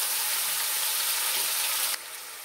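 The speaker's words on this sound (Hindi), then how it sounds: "इसको फ्राई कर लेते हैं कलर चेंज होने तक।" Garlic paste fries in a pan with a steady, close hiss of sizzling oil that suddenly drops in intensity near the end.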